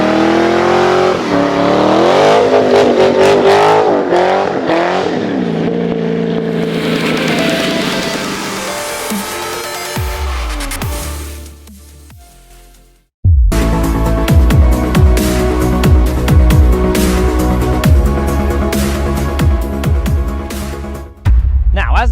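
A Chevrolet C6 Corvette Z06 doing a tire-smoking burnout: its engine roars loud and close under heavy revving, drops away briefly to near silence, then bursts back in at full volume with a steady, snarling howl.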